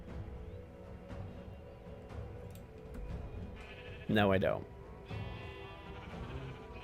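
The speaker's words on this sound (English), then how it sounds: "Anyways, I think I'm gonna get away from these sheep." A sheep in the Minecraft video game gives one loud, wavering bleat lasting about half a second. Someone talks steadily around it over quiet game background sound.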